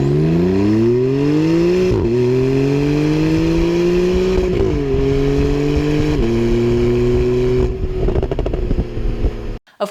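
Turbocharged Porsche 911 of the 991.2 generation revving hard and continuously, with engine pitch climbing in several stepped pulls as gears change, loud and close, then dropping off near the end with a brief pop.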